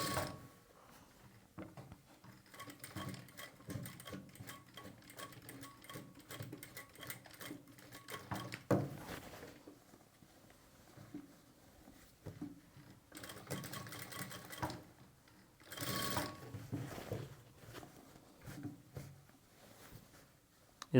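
A sewing machine stitches a sleeve onto a garment, its needle mechanism chattering in a fast steady rattle with brief pauses and restarts, close and moderately loud.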